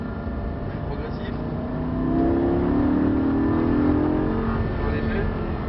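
A Lamborghini on a racetrack during a driving course, its engine droning steadily then swelling louder as it accelerates, a continuous close roar under an instructor's coaching voice.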